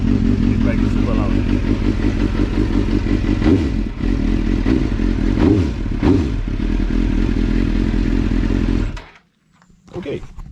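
A sportbike engine running on a standalone ECU idles loud and steady, a deep continuous rumble with slight blips and mechanical clatter, close to the listener, before cutting out abruptly near the end.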